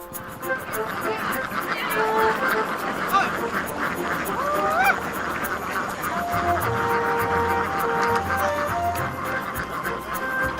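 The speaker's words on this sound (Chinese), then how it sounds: "赶鸭子下海是门技术活" A flock of several thousand sea ducks being herded quacks and honks continuously, a dense noisy chorus with a voice talking over it.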